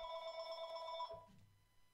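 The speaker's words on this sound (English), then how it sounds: "Phone call incoming." A telephone rings with an incoming call, a steady electronic tone that sounds clearly for about a second, then stops as a low thud and faint rustle follow.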